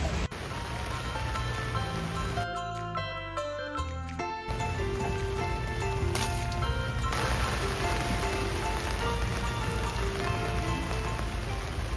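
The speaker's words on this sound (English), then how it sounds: "it's raining pretty hard right now" Steady, dense hiss of heavy rain throughout, with a tonal musical passage briefly layered over it midway.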